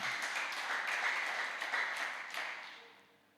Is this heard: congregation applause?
yes